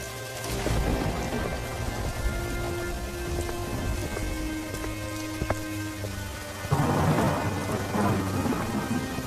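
Heavy rain pours steadily on surfaces while thunder rumbles through it, with a louder crack and burst of downpour near the end.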